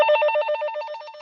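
A telephone rings with a rapid, trilling electronic bell, repeating pulses at an even rhythm, loud and close with no voices over it.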